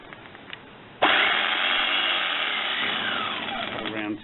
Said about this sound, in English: Get a jigsaw, place it in the hole.